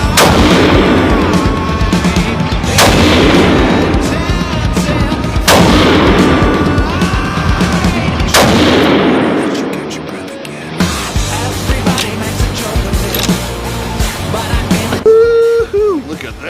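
6mm GT rifle shots ring out at the range in a load development session comparing Varget and N150 powders, with loud, sharp reports spaced a few seconds apart, each leaving a long decay, and quieter handling noises after.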